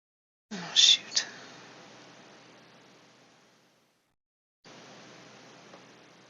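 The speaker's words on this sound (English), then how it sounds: "and then take your hair dryer." A steady broadband whoosh of a hair dryer blowing close by, running for about three seconds, stopping, then starting again after a short pause.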